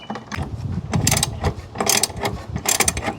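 Rapid, close ratcheting clicks from a 16 mm socket wrench loosening the bolts that hold a master cylinder to the vacuum booster on a 1992-94 GMC Yukon or Chevy Blazer, steady and busy throughout with no talk.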